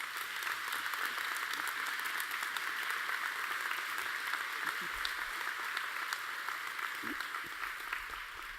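Steady applause from an audience at a church address on ordination, a dense, even wash of many hands clapping continuously, fairly distant and moderate in level, with faint murmuring beneath.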